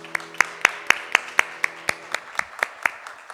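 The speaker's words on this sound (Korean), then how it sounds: "하나님께 영광의 박수 올려드리겠습니다." A church congregation at an Easter worship service claps in a slow, even rhythm of about a dozen distinct, crisp hand claps, heard over a faint sustained organ-like tone.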